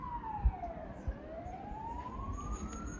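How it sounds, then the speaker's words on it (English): A wailing emergency vehicle siren sweeps down and then back up in pitch, moderately distant through a noisy street near the gardens of Kandy, with faint thumps and traffic underneath and no talking. "You can probably hear that siren."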